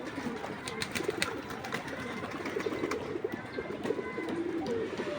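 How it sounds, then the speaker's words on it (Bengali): China Khaki pigeons, a male and a female, coo together in a sunny loft, their soft low calls overlapping steadily against a busy background of other birds and rustling. "চায়না খাকি নর আর মাদি দুইটা ডাকাডাকি করতেছে একসাথে"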